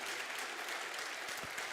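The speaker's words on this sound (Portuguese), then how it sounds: "Você pode aplaudir a Jesus?" Church congregation applauding during a worship service, a dense, even wash of clapping that holds steady for the full stretch, moderately distant and alone.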